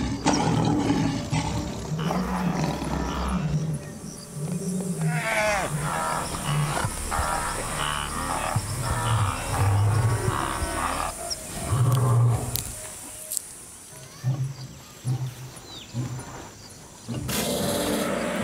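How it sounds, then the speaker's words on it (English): A lion gives a series of deep, rumbling roars, loud and close, rising and falling in repeated bursts over a busy, noisy background. "these majestic creatures boast a distinctive mane and a vicious roar that can be heard"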